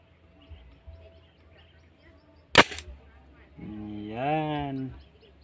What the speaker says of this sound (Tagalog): So napaka solid ng putok guys.